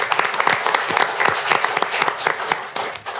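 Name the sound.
audience applause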